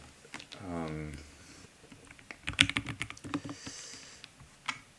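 Computer keyboard typing in quick irregular bursts of clicks and taps, close and fairly soft, with a voice speaking over part of it.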